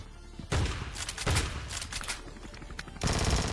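Automatic gunfire in the Scarfall shooting game comes in several rapid, loud bursts separated by short pauses.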